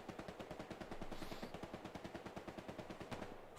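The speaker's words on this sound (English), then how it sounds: "Long range shots from Lewis here on the left." A Lewis machine gun fires long-range in Hell Let Loose, a steady, evenly spaced stream of rapid shots that sounds distant and fairly faint, with no talking.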